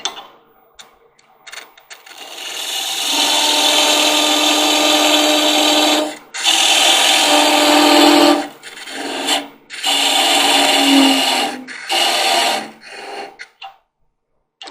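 Parting tool cutting into a spinning wood goblet on a lathe, making a loud, steady rasping scrape in several long passes separated by short pauses, close up and alone, fading to quiet at the end.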